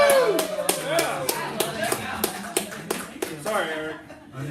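An audience at a 1 Million Cups gathering in Santa Clarita gives a brief round of applause, crisp claps in quick succession under a talking voice, fading out near the end.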